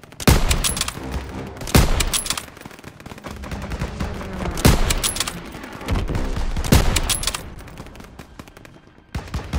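Heavy World War II battle gunfire in the Call of Duty WWII video game, with rapid machine-gun bursts and sharp loud rifle shots over a dense, rumbling battlefield din that continues throughout.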